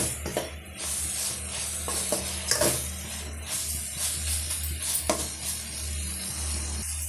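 Water poured into a pan of frying chili powder and coriander powder with brinjal and potato, giving a steady close sizzle with scattered clinks and scraping of a utensil against the pan.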